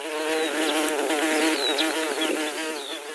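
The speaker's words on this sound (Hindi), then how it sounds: "ये मधुमक्खियों की पंख की फड़फड़ाने की आवाज सुन रहे हैं आप" Honeybees buzz close by, their flapping wings making a dense, continuous droning hum that wavers slightly in pitch throughout.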